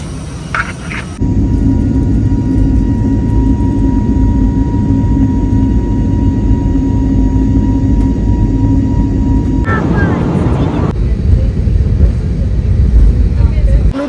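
An airliner waits at an airport before boarding for a Bangalore flight, giving off a loud, constant engine drone that fills the scene, with a shift in the noise near the end.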